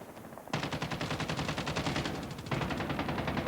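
Rapid automatic gunfire from a first-person shooter video game rattles out in a dense, continuous burst, loud and close, with a brief change in texture partway through and no talking over it.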